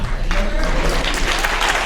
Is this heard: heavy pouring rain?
no